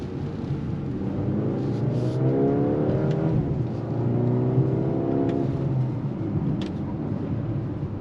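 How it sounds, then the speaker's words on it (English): A 2025 Mercedes-AMG GLA 35 SUV's engine rumbles steadily, its pitch sweeping up and down as revs rise and drop through paddle-shifted downshifts, with brief sharp blips between shifts. "You can hear the downshift."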